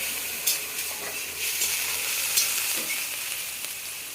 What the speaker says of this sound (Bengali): আদাটা একটু ভালো করে ভেজে নেব